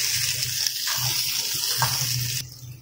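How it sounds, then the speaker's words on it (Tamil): Small shallots and garlic cloves sauté in a little sesame oil for a country-chicken curry, giving a steady, close hiss of sizzling that cuts off abruptly near the end. "2 பூண்டு பல்லு, கொஞ்சமாக நல்லெண்ணெய் ஊற்றி வதக்கிக்கலாம்."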